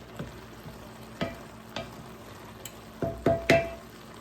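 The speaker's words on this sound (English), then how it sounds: "And I'm still stirring it." Onions stir in a hot pan for French onion soup, a soft sizzle running underneath while a utensil scrapes and knocks against the pan in several separate strokes, two quick ones close together near the end.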